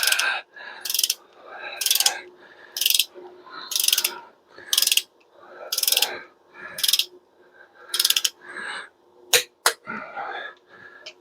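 A torque wrench ratchets while tightening cylinder head bolts on a small-block Chevy engine, with about ten separate bursts of close, sharp clicking in a regular rhythm and short quiet pauses between them.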